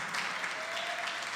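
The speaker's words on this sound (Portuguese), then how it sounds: "vamos aplaudir, aplauda ao Senhor Jesus" A congregation at a missionary conference claps for the Lord, a steady wash of many hands applauding throughout, moderately loud in a large room, with a faint voice underneath.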